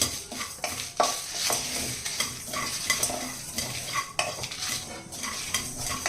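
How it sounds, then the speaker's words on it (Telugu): Coriander seeds, dried red chillies and cumin crackle in a pan over low heat while a spoon stirs and scrapes against the metal in irregular strokes, close and fairly loud. "అదే స్పూన్తో ధనియాలు కూడా వేసుకోవాలండి అలాగే నాలుగు ఎండుమిరపకాయలు ఒక టీ స్పూన్ తోటి ఒక స్పూను జీలకర్ర ఇవన్నీ వేసి చక్కగా లైట్గా ఫ్రై చేయాలి"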